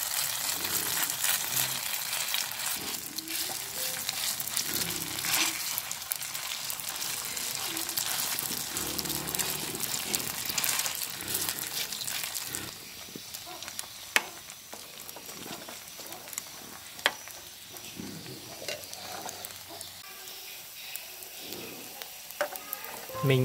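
Batter made from leftover cooked rice fries in a regular pan, giving a steady close sizzle and crackle of hot oil that grows quieter partway through, with occasional light clinks of a utensil.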